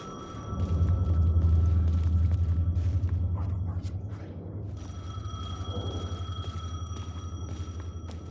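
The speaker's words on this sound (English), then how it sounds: "The payphone was ringing." A payphone rings in the video game Alan Wake II, a steady electronic trill that repeats over a deep droning rumble, swelling and then easing slightly as the tone carries on.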